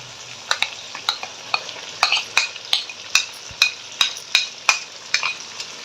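Fish being stirred and fried with spices in a pan for a fish and potato curry, with a steady sizzle under rhythmic scraping strokes of a spoon, roughly two per second, close and fairly loud, with no talking.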